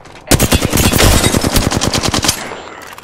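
Loud, close automatic gunfire in Apex Legends, a fast rapid-fire burst of many shots lasting about two seconds before cutting off.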